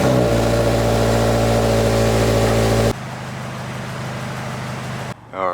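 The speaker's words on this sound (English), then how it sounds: "I'm just gonna let the car warm up all the way" Engine of a 2022 Subaru BRZ or Toyota GR86 warming up after a transmission oil change, a loud steady idle hum that drops to a quieter, lower idle partway through and ends with a brief shift in tone.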